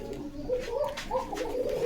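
Pigeons coo at a pigeon market in Bogura, with low repeated warbling calls close by over a steady background murmur.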